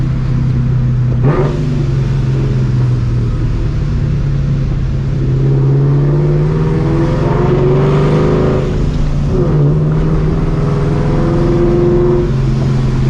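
A supercharged New Edge Mustang GT accelerating hard on a Houston highway, loud engine roar heard from inside with rising and falling pitch sweeps as it pulls through gears, continuous throughout.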